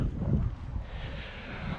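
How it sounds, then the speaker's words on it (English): Wind gusting outdoors where a Parrot Bebop 2 drone is about to be flown, a steady low rumbling buffet across the microphone, loudest at the start and easing slightly, with no talk. "Kind of windy out here"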